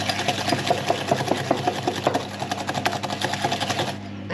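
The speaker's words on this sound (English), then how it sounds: "And now we need a whisk. Just whisk that together." Custard ingredients are whisked together in a bowl, a quick rhythmic tapping and scraping of the whisk repeating close by for several seconds, with no talk.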